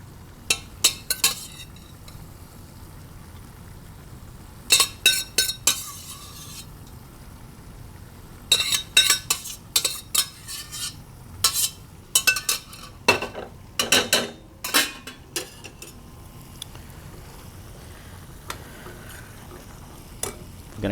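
Bursts of metal spoon clinks and scrapes against a bowl as cooked adobo broccoli and cauliflower are spooned over steamed rice, close and intermittent with quiet gaps.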